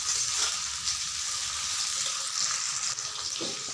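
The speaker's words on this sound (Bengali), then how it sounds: "টমেটোগুলোকে একটু ভাজা করে নেব" Tomato pieces fry in a pan with a steady, moderately quiet sizzle, with no talking over it.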